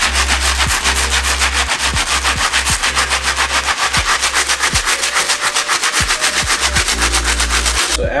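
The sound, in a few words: stiff bristle brush scrubbing sneaker midsoles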